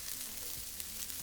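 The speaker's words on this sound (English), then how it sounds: "So here we're going to add our onion and garlic." Onion and garlic hit a hot, oiled pan, producing a brief, soft, even sizzle close by.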